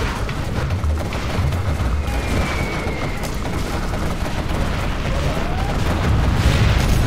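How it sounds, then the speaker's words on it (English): Particle cannon firing in C&C Generals Zero Hour, a loud, dense roar of blasts and booming impacts that rolls on without pause for several seconds, with no talking. "Warning, particle cannon activated."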